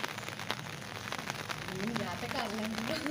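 Rain patters on surfaces in a village as a fine, crackling hiss that carries on steadily while people talk nearby.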